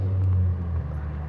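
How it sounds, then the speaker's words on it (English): Several car engines idle and rumble nearby, a low steady drone that eases off slightly partway through, heard alone without talk. "Alright, cars starting up."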